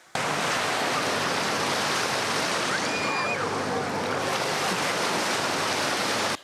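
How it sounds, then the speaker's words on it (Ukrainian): A water-park wave pool churns out artificial sea waves, making a continuous loud rushing roar of surf that holds steady for several seconds before cutting off abruptly. "Є аквапарк і басейн з імітацією моря. Дорослі і малі тут ловлять хвилі."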